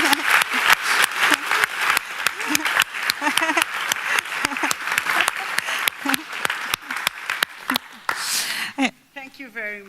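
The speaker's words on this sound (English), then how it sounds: "let's give a big round of applause" Audience at an awards ceremony breaks into sustained applause, dense clapping running nearly ten seconds with a few voices mixed in before it fades out and speech begins at the end.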